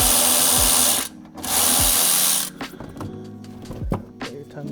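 Power impact tool bursts on a bolt during a BC coilover install on a Honda S2000: two loud sustained whirring runs, then quieter clanking and handling of parts, with no talking.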